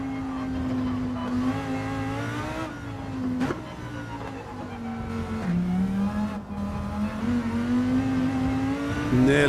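A mid-engine race car in Gran Turismo 7 on a circuit, its engine held at high revs with rising pitch, a few quick gear shifts and a continuous loud drone throughout.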